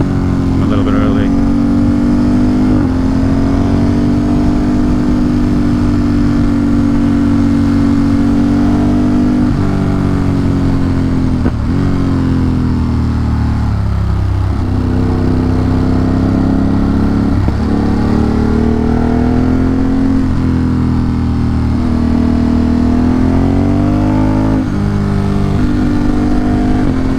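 Motorcycle riding along a forest road upstate, its engine droning steadily and loud throughout with shifting pitch as it speeds up and slows, and a voice talks briefly over it.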